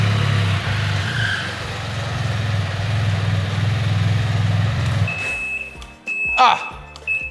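New Can-Am Spyder three-wheeler rolls in with a steady, close engine hum that suddenly cuts off, followed by a thin electronic beep and a few sharp clicks and handling noises.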